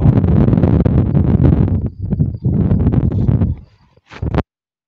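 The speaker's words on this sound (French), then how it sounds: "C'est quand il y a du vent." Gusty wind buffets the microphone on a golf course fairway during a scramble round at Golf de La Bosse, a loud, continuous low roar with short lulls and a sudden drop near the end.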